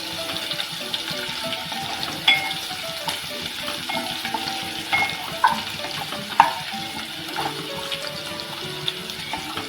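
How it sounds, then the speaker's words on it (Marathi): Crushed garlic and ginger sautéing in a pan for a Maharashtrian masala, a steady watery sizzle with occasional stirring clicks and scrapes rising above it, close-up and continuous with no voices. "इथे मी लसूण आणि आळ खेचून घेतलेलं आहे थोडं परतून घेऊया"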